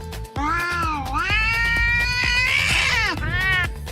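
A person dressed as a cat gives a loud, drawn-out voiced meow close to the mic, imitating a cat with a rising and falling wail, a short second meow at the end.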